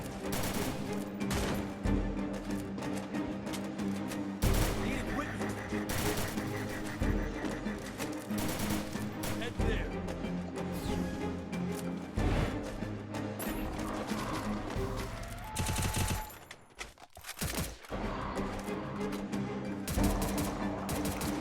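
Video game gunfire from MP5 and UMP submachine guns crackles in dense, rapid bursts over busy game audio, with a brief lull near the end before the shooting resumes.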